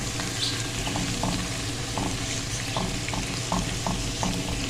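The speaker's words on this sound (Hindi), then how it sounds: "अदरक लहसुन हमारा भून गया।" Ginger and garlic fry in a pan for spiced potato slices, a steady broadband sizzle running throughout with faint periodic clinks of a stirring spoon, close and fairly loud.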